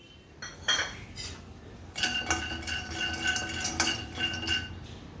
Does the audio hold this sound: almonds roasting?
yes